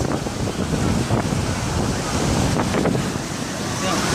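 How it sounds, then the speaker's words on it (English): Ocean waves breaking on a beach, heard as a continuous loud wash of surf with heavy wind buffeting the microphone and no clear gaps between swells. "Look at the waves."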